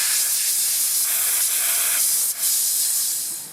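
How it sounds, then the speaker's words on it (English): Compressed air blasts water out of a Ford power running board, a steady, loud broadband hiss with a slight spray quality that runs almost continuously, briefly dipping once before resuming and tapering at the end. "I'm going to take some compressed air and blow any water that's in there out"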